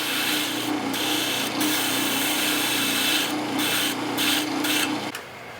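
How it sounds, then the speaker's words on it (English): A wire brush scrubs the motor shaft of an Aqua-Flo Flo-Master XP2 spa pump in steady, close scratching strokes, with a motor hum running underneath and a few brighter bursts of rasping before it stops near the end. "You want to make it where it will easily get it with a wire brush and clean it up."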